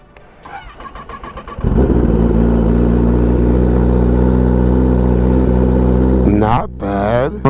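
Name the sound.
sport motorcycle engine cold start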